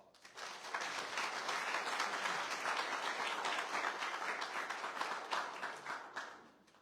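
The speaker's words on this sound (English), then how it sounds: "Everybody please give them a round of applause." Audience applause at a candidates' forum rises quickly, holds as a dense patter of many clapping hands, then fades out toward the end, fairly soft and with no talk over it.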